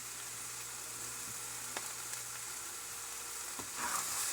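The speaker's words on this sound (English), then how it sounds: "A little bit of stirring around in there." An omelet with onion sizzling steadily in a hot pan, a close, even frying hiss with a few faint spatula scrapes as it is stirred around.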